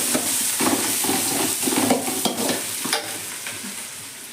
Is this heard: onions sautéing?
yes